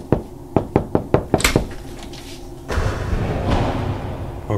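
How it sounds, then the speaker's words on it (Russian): A quick run of about seven knocks on a door picks up speed, ends in a heavier thud, then gives way to a steady rustling noise with no voices. "Заходи давай, хватит стучать!"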